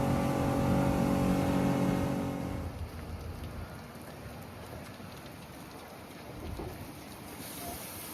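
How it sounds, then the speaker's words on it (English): Rain falls steadily in Alaska, a soft continuous hiss of drops that is louder at first and then thins to a quieter patter. "It's raining."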